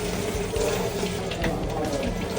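Water running steadily from a tap, a close and constant hissing splash with no break, heard alone.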